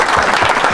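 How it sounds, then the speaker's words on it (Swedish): A burst of loud, dense applause from a crowd at a burger competition final, honoring the competing creators; brief and continuous with no talk over it. "Stora applåd till alla!"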